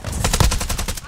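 Rapid automatic gunfire in Call of Duty Warzone, a tight burst of about eight close, loud shots fired in quick even rhythm over roughly a second.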